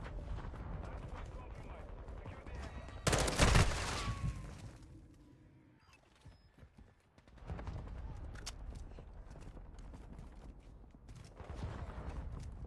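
Rapid bursts of gunfire from a weapon in a video game, a dense loud volley in the middle followed by quieter stretches of game noise, with a person talking over it.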